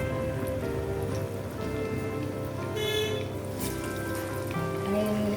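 Spiced Maharashtrian panchratna vada, a chana-dal-rich lentil fritter, frying in hot oil after being slipped in by hand, with a steady close sizzle and crackle that sounds like rain on a surface. Brief talk may sit beneath it.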